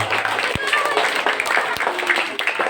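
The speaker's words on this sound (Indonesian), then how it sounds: "Tepuk tangan." Children clapping together in a school classroom during a Ramadan program, a brisk burst of mixed claps with a couple of sharp louder hits, close and fairly loud amid room chatter.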